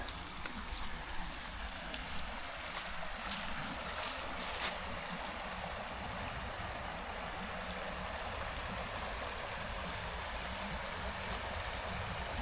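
Water running steadily along a stream beside a wooded park trail in autumn, a continuous close, even wash with no voices.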